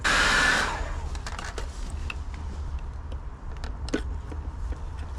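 A hair dryer blows with a steady, loud whooshing roar, louder at the start, with faint clicks and small knocks over the continuous hum, used to loosen hard fuel pipes on an MK4 Golf 1.8T.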